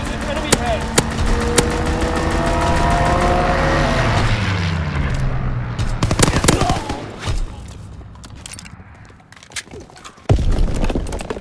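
Gunfire from an aircraft strafing run in the World War II shooter Call of Duty: WW2, sharp bursts and scattered shots over a droning engine and a game announcer's voice.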